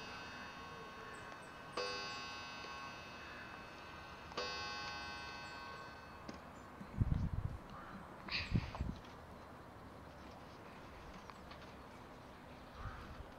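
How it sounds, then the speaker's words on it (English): A mantel clock ticks softly in a quiet indoor room. Two ringing, chime-like tones sound early on, and a few dull low thumps follow later. "Here's my mantle clock, guys."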